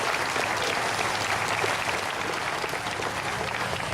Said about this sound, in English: So please give everybody that helped out a round of applause